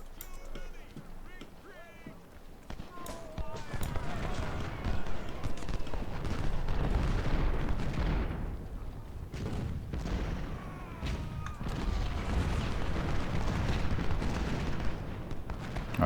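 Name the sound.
rifle fire in the video game Ultimate General Civil War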